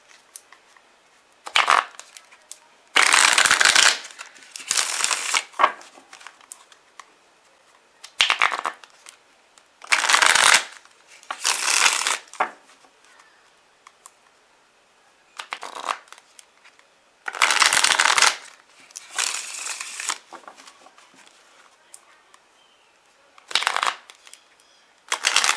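Tarot cards are shuffled in a series of crisp riffling bursts, each lasting one to two seconds, separated by short pauses, close and fairly loud with no talking.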